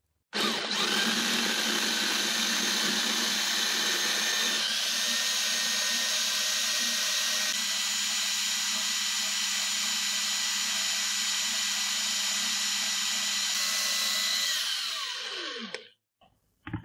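An electric chopper grinds coarse flour dough balls for aloe vera laddu, a loud steady motor whine running about fifteen seconds with a slight shift in tone partway through, then spinning down to silence.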